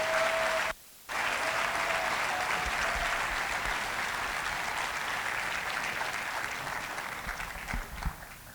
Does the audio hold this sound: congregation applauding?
yes